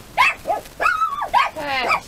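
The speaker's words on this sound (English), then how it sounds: "And excuse my dogs." Pet dogs in a home bark and yip in several short bursts, with some whimpering and a drawn-out whine, while a person speaks over them.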